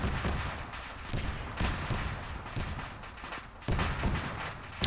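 Repeated heavy booms and blasts roll through a dense, noisy background, with sharp bursts every second or so, fairly close and loud.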